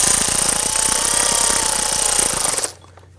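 Power tool snugging down bolts on a 2017-2020 Hyundai Elantra during spark plug work, a loud close rattling buzz lasting a couple of seconds before cutting off abruptly into quiet.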